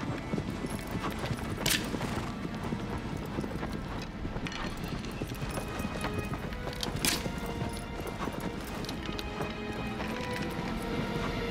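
Hooves of a horse galloping in Shadow of the Colossus, a steady rapid clip-clop rhythm running throughout with occasional sharper impacts, close and fairly loud.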